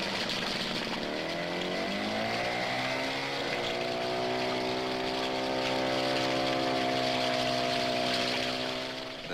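A hovercraft with a specially designed propeller driven by a 250cc motorcycle engine runs on its air cushion, giving a steady, loud engine drone whose pitch climbs over the first few seconds and then holds, with constant rushing air noise.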